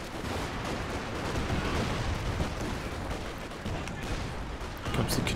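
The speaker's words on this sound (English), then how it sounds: "Here comes the Katusha barrage." A Katyusha rocket artillery barrage in the Company of Heroes 2 war game, a sustained roar of rapid overlapping launches and impacts that rumbles continuously and loudly, with a few sharper bursts near the end.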